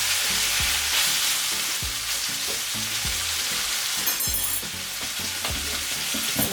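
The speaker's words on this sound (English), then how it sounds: "Now that the pork chop is fried and sealed nicely" Pork chops fry in a pan with a loud, continuous close sizzle and crackle, occasional scraping stir sounds layered over the steady hiss.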